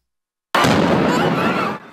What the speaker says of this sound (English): That's the second explosion at the Boston Marathon